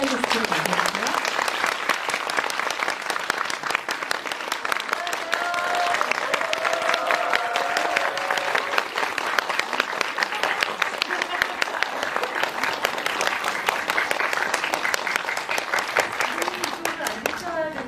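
At a film screening Q&A, an audience keeps up long, steady applause to welcome the actors and director. The dense clapping stays loud and even throughout, with faint voices mixed in underneath.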